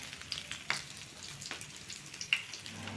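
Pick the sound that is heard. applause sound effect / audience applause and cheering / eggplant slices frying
eggplant slices frying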